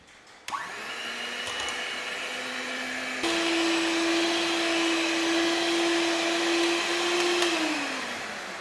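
Electric beater whipping cream for mango ice cream, a steady close motor whine that starts abruptly, rises to a higher speed partway through and winds down at the end.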